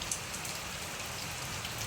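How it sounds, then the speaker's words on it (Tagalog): Heavy rain pours down steadily in Tolosa, Leyte, a dense continuous hiss of drops hitting surfaces at close range with no let-up. "Sobrang ulan talaga. Lakas na talaga ng ulan."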